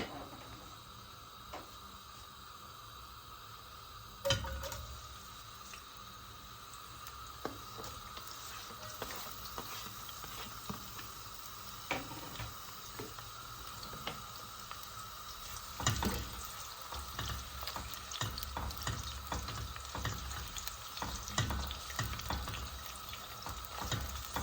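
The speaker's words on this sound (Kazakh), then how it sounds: "ең бірінші біз жуамызды қуырамыз" Onions fry in half a litre of oil for Uzbek shah plov, a faint continuous sizzle with scattered knocks and stirring clatters and a brief splash of water, with speech heard at times.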